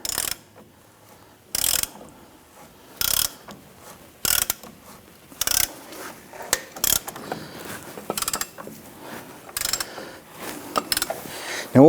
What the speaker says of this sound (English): when pressing this in, you want to make sure that the ball joint is lined up both ways